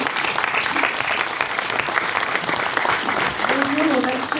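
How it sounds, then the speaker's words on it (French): Steady, dense applause from a conference audience fills the whole stretch, loud and continuous with no pauses. "on peut l'applaudir."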